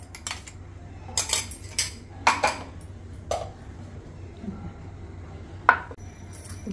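Coarse ground chilli paste being scraped out of a mixer jar into a small bowl, giving a few short clinks and scrapes of a spoon against steel, spaced irregularly, with a steady low hum underneath.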